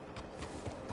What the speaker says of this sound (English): Look at that horse there.